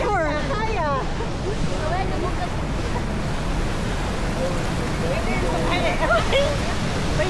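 A waterfall with strong water flow approached by raft, a loud continuous rushing roar with wind buffeting, while people talk and call out over it.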